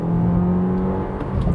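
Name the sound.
Jeep Compass 1.3 turbo engine accelerating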